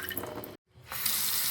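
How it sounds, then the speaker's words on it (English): A kitchen faucet with low water pressure runs in a weak, thin stream into the sink, then briefly cuts out before the trickle resumes. "I got it cranked up all the way and that's all I got."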